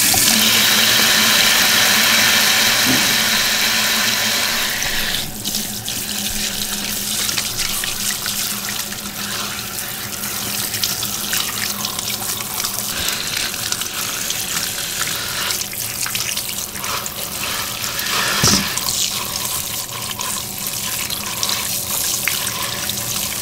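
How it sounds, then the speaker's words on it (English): Charred food is rinsed under a cold running kitchen tap, and the water pours in a steady, fairly loud rush that splashes and shifts in tone as the food is moved under the stream, with no speech. "What you can do is just give it a rinse over cold water to clean it up nicely."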